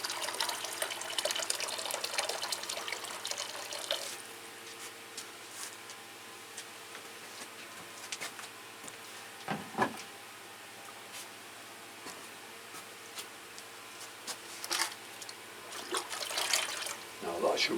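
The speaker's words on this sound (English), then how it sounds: "I've got to put some warm water in too." Warm tap water runs and trickles into a container for feeding orchids, a faint steady flow with occasional splashes and clinks, heard at a modest distance.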